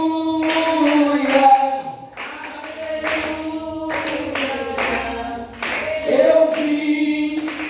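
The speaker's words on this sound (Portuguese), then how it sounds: "Palmas para Jesus." A church congregation claps along in worship, sharp rhythmic hand claps over sung voices and a sustained musical backing, loud and close throughout.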